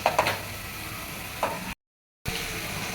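Onions sauté in a pan for Madurai-style chicken gravy, giving a steady, close sizzle with a few soft stirring knocks and a brief break in the middle.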